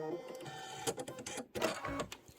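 A home sewing machine tries to auto-thread with fabric left under the presser foot, giving whirring, clicking mechanical bursts and a clunk, close and fairly loud.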